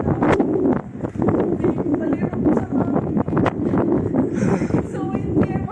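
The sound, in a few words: strong wind at a 60 meter bell tower in Split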